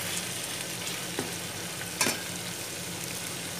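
Fairly large mutton pieces fry in a pan for an Eid mutton pulao, giving a steady, close sizzle with a couple of brief stirring clicks.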